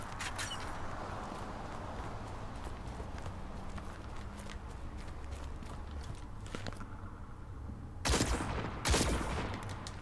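Rapid gunfire from a weapon in Destiny 2 fills the stretch in dense repeated shots, with footsteps and game effects mixed in and a louder burst near the end.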